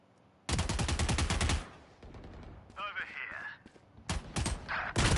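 Rapid automatic gunfire from the Valorant video game, a loud burst of closely spaced shots followed by talk and then more bursts of firing near the end.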